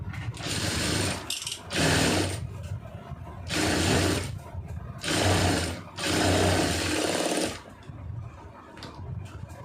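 A sewing machine stitching a blouse lining runs in four steady whirring bursts of a few seconds each, close and fairly loud, separated by short pauses.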